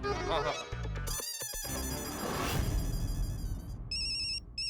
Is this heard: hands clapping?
no